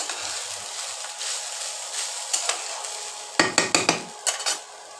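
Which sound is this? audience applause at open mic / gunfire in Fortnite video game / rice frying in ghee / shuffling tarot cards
rice frying in ghee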